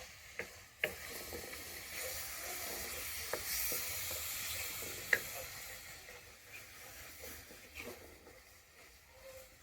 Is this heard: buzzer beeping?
no